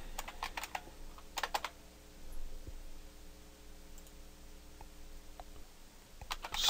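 A computer keyboard types a command into an Ubuntu terminal, with quick bursts of close, crisp keystrokes at the start and again at the end, separated by a quiet stretch with no talking.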